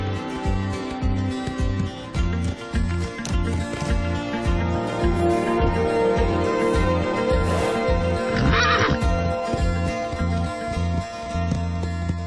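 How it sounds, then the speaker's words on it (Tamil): A horse whinnies loudly in an animated Barbie pony-tale film, its neigh layered over a steady, rhythmic music track, with no talk. "செல்சி, உன்னை கூட ஒரு குதிரை தேர்ந்தெடுத்திருக்கு."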